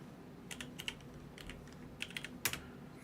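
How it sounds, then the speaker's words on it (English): Light taps on a phone screen come in a few quick, faint clusters, close by, against a quiet indoor background with no talking. "I'm typing something."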